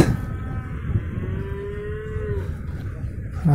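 A single cow moos clearly at a livestock market, one long, fairly close low call against a steady background murmur.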